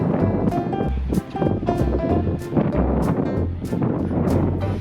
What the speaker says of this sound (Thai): ตรงนี้ลมแรงนะครับ